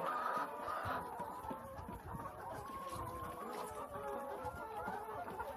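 Chickens on a farm cluck and chatter softly while drinking milk, a continuous low murmur of fowl sounds with faint background noise.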